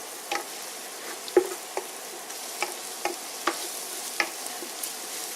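Garlic and lemongrass fry quietly in a pan, a faint low sizzle punctuated by a dozen light, irregular taps and scrapes of stirring.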